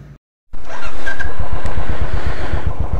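A Benelli TRK motorcycle pulls away after a brief silence, its engine rising into a loud steady throbbing drone with a pulsing exhaust beat, close and alone.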